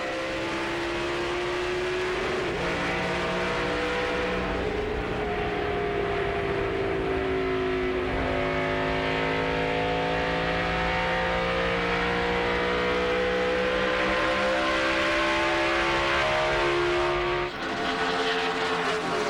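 Onboard a 2005 ARCA stock car on a restart, the V8 roaring loud and continuous, pitch climbing through gears with a brief dip at each shift and other cars droning around it.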